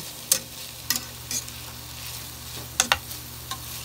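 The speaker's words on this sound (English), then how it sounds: "I'm sauteing them in the pork juices that was left over and just a tiny bit of canola oil" Green onion, broccoli, cauliflower and carrots sauté in leftover pork juices with a little canola oil, a soft continuous sizzle broken by several sharp utensil clicks and scrapes against the pan.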